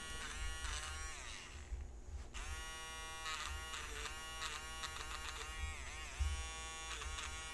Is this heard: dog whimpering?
no